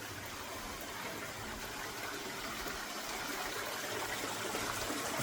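Water cascading down a waterfall feature at a temple, a faint, steady broadband rush of flowing water with no voices.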